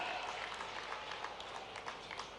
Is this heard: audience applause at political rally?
yes